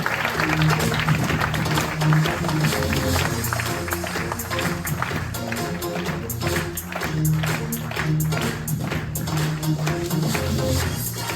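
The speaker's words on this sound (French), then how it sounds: "On peut applaudir très fort Maëlyn, s'il vous plaît." An audience at a stage show in Corsica applauds loudly and continuously for more than ten seconds, dense clapping over music with a steady beat.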